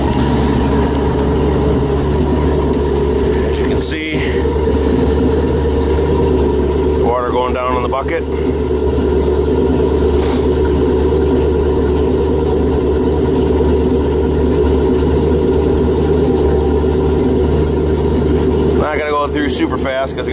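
An inboard boat engine runs at a steady idle near 1,000 rpm while being winterized, a constant loud low drone with a few short clicks and clatters above it.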